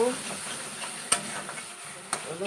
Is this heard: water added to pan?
yes